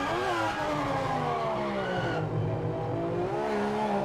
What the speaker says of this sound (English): That was me locking brakes.